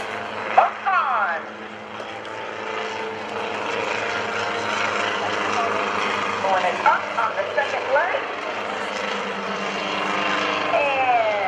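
Otto the helicopter flying a square loop at a 2012 NAS Oceana airshow: a steady rotor and engine drone heard from a distance, under continuous announcer talk.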